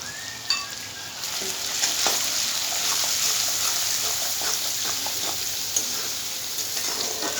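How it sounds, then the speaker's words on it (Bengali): Turmeric, chili powder and salt sizzle in hot oil with a steady, close crackling fry, punctuated by a few sharp clicks and scrapes of stirring. "মশলাটা একটু ভাজা হলে"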